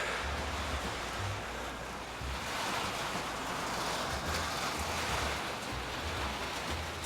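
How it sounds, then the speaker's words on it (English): Heavy thunderstorm rain pouring outside a garage holding a Camaro, a dense, steady wash of downpour with low rumbling underneath, continuous and fairly close, no voices. "There's a treacherous thunderstorm happening outside right now on my Camaro."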